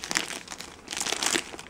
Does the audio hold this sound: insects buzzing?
no